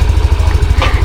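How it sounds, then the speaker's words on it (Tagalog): A motorcycle engine idles close by with a rapid, even low-pitched throb, loud and steady throughout the short moment. "hindi ko alam kung paano i-stop yung motor"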